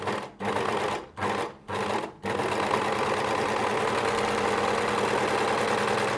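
An overlocker sewing machine stitches a quarter-inch seam along a fabric edge, starting and stopping in three short bursts before running in one steady, loud continuous whir.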